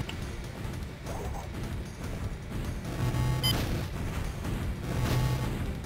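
Bazooka fire in the video game Crash Bandicoot: Warped comes through as dense, loud booming blasts and crashing impacts over a constant rumbling game soundtrack, with two stronger bursts toward the end.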